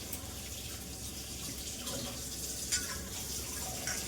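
Running tap water splashes steadily at close range as something is rinsed under a kitchen faucet, a continuous hiss with a few brief clinks and no voices.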